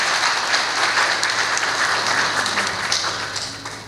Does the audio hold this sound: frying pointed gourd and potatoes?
no